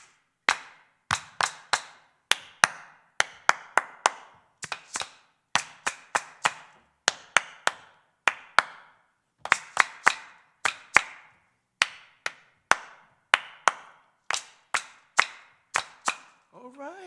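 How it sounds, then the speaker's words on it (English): Sharp, crisp hand claps ring out in short rhythmic phrases, with groups of claps separated by brief pauses as a call-and-response pattern is repeated in a quiet room. "I'm gonna clap something, and then I want you guys to clap back right after me"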